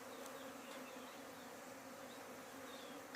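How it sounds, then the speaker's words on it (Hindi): Honeybees buzzing around an open beehive, a dense steady drone of many insects with occasional individual bees passing close, continuous throughout. "सारी मधुमक्खियाँ बाहर निकल गई मेरे ख्याल से"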